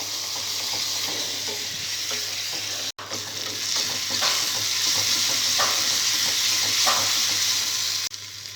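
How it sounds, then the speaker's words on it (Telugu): Tomato paste frying and sizzling in a pan while being stirred for a restaurant-style mushroom masala curry, a steady close hiss with intermittent scraping strokes throughout. "టమాటో పేస్ట్ పచ్చి వాసన పోయే వరకు బాగా ఫ్రై చేసుకోవాలి."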